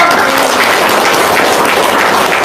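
An audience at a talk applauds, producing a dense, steady wash of clapping that stays loud and even throughout, with no voice on top.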